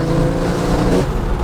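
Straight-piped Porsche 911 Turbo exhaust roaring loudly and continuously up close, a deep raspy drone that surges slightly as the car accelerates.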